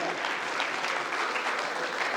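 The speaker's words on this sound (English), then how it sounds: "round of applause for the ushers" Wedding guests applaud the ushers during the reception speeches, a brief, even burst of many hands clapping together with no pause.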